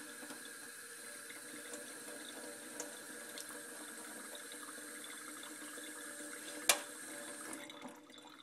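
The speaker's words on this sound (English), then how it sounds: "So I'm gonna turn on the hot water and take that off real quick." Hot water runs from a tap onto a frozen egg in a sink, a steady hissing splash throughout with a single sharp knock near the end before the flow cuts off.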